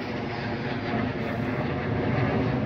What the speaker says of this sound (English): There's a plane going over by.